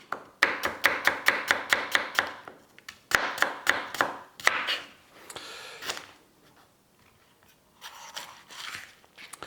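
Knife finely slicing cabbage for krautsalat on a board, a quick run of crisp, evenly spaced crunching chops, a pause, another fast burst, then softer scattered strokes, close and unaccompanied by talk.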